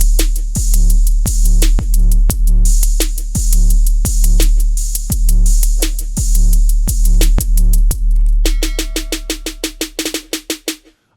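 Drum synth in Akai MPC 2.9 software plays a loud, punchy pattern of deep booming kicks and bright clicky hits. It ends in a fast roll that speeds up and fades out.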